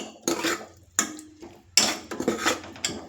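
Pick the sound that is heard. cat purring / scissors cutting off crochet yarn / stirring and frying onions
stirring and frying onions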